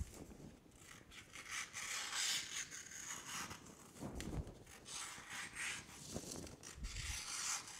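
A vinyl decal for custom fan gear trimmed by hand, with quiet scraping and rubbing strokes that come and go in an irregular rhythm. The sound is close and faint, and no one speaks.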